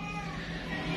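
A small injured kitten meows close by, a single thin cry sustained through the whole second at fairly low volume.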